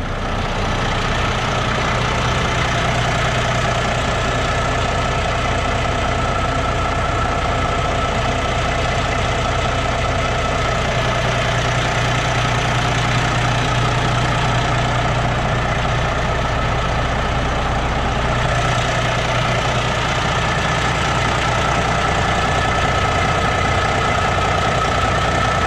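A car engine idles steadily with a low, even rumble and faint knocking, loud and close, holding a constant pitch throughout with no voices.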